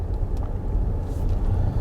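Inside a Mercedes EQC 400 electric car rounding a roundabout, a steady low road rumble and soft tyre noise carry on at moderate level with no voices.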